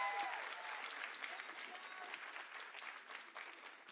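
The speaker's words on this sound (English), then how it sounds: "I think she deserves another round of applause." Applause at a Women's Day event, a soft, fairly distant patter of many hands clapping steadily throughout with no voices over it.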